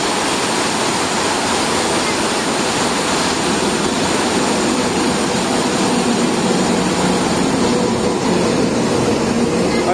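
An Ajmer-Dadar express train draws near through heavy monsoon rain, its low rumble building faintly under a loud, steady downpour, with no voices.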